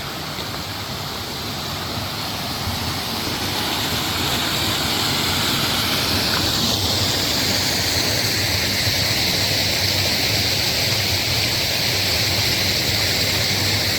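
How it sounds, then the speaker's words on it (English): A small waterfall in the woods beside the Kennebec River in Maine gives off a steady, continuous rush of falling water that fills the whole stretch with broad hiss, with no voices over it. "Little waterfall."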